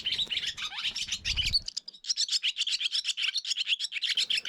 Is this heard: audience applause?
no